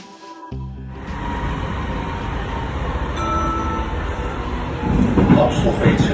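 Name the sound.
Amsterdam metro train riding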